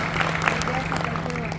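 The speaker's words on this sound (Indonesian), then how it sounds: "Tepuk tangan sekali lagi, luar biasa." Audience applause at a corporate award ceremony, dense clapping mixed with a constant hum and some voices underneath, short and steady.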